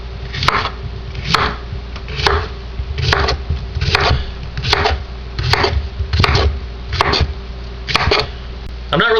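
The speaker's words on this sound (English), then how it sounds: "1 cucumber, peeled, seeded, and chopped, about 1 cup" A knife chops peeled cucumber on a cutting board, about a dozen evenly spaced, close, crisp thuds falling in a steady rhythm, with a faint kitchen hum beneath and no talking.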